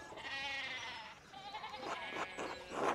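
Sheep in the game Pentiment give a few wavering bleats from close by, one long call followed by shorter overlapping ones, over a quiet farmyard background.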